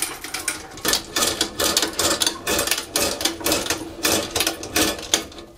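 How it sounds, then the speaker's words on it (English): A toilet auger is pushed and cranked down a bathroom toilet drain, giving a close, loud run of rhythmic rattling bursts that rise and fall as the handle turns. "as you push on the auger, you push and turn"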